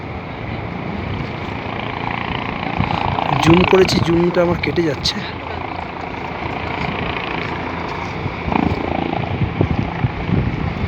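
A helicopter at a hillside helipad in misty mountains gives a steady, broad mechanical drone mixed with wind buffeting, while people talk over it throughout.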